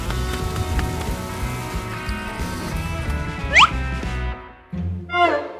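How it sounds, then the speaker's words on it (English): Heavy rain pouring down steadily in a cartoon scene, a dense continuous wash filling the whole stretch, broken by two brief high squeaky chirps near the end. "Rain suddenly pours."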